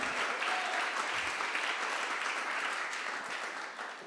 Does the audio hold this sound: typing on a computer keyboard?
no